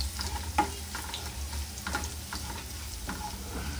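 Garlic fries in hot oil with asafoetida for a cluster-bean and garlic vegetable dish, a steady close sizzle with intermittent scrapes and taps of the spoon stirring the pan.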